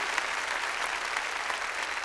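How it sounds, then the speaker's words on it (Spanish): A church congregation claps loudly and steadily in praise, a dense, continuous burst of applause filling the room with no voices over it. "Démosle palmas fuertes a nuestro Señor."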